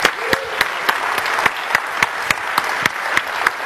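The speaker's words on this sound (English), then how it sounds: "Round of applause for Adam." Audience applause at a Google I/O 2014 session, a steady wash of clapping punctuated by a regular series of sharper, louder claps close by.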